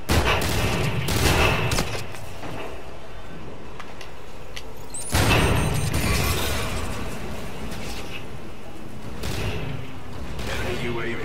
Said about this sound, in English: Six shots.